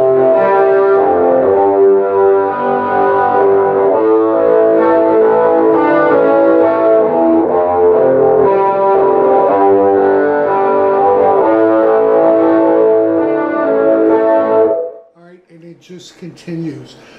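Driving electric guitar riff alternating the open sixth string with fretted notes on the fifth string and the open G, loud and continuous, then cut off as a voice begins talking.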